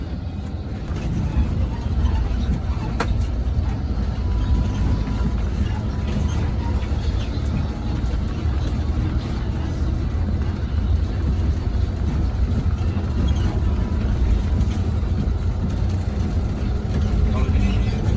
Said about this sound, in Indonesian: sekarang kita lagi konvoy bareng bersama bus Cahaya Bone